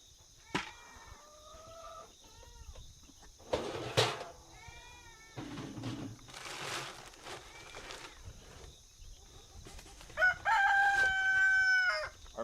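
Laying hens on a farm clucking and squawking at morning feeding time, with a rooster crowing loudly near the end; scattered calls come and go over a quiet background.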